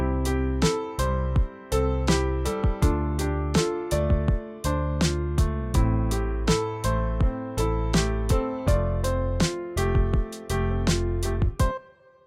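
A short music track built from Logic's stock sounds, with piano chords over bass and steady drum hits in a regular groove, played alone and cut off abruptly at the end.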